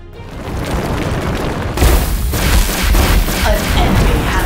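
A turret being destroyed in a multiplayer battle arena game, a loud booming blast with rumbling debris and scattered gunfire-like bursts that swell after a short quieter lead-in.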